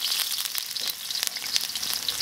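Garlic and ginger fry in a little oil in a wok, giving a close, bright crackling sizzle with sharp spits and pops throughout.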